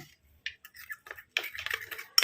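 A spoon stirs tomato juice into a face pack mixture in a small bowl, with soft, scattered scraping and clinking that grows busier toward the end, close and quiet.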